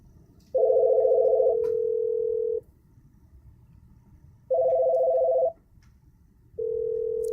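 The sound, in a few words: phone call dialing and ringing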